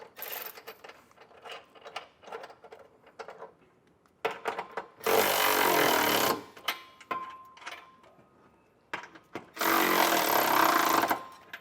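Bolts on an etrailer hitch receiver are snugged down under a 2024 GMC Terrain, with close, quick bursts of ratchet clicking and longer rapid cranking runs, separated by short pauses and small metallic knocks.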